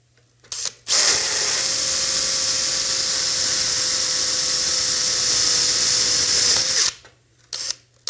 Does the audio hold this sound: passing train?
no